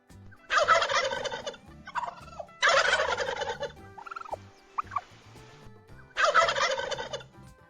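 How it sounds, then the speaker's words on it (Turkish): A turkey gobbles loudly three times, rapid rattling calls spaced apart, with softer clucks and chirps in the gaps between them. "Hindiler böyle ses çıkartır."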